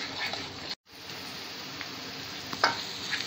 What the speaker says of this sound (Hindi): अब हम तेल छूटने तक इस मिश्रण को अच्छी तरह भून के लेंगे